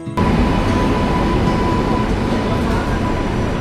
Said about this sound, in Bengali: এখন আমি চলে আসছি চণ্ডীগড় রেলওয়ে স্টেশনে